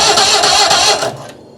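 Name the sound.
Citroën 2CV engine cranking on 6 volts, trying to start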